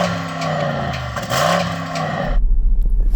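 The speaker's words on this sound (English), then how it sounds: "rev up your engine" A Porsche Cayenne Turbo Mark III engine revs loudly nearby, its tone rising and falling, then drops to a deep, throbbing low idle pulse.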